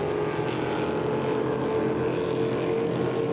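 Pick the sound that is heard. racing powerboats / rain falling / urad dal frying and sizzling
racing powerboats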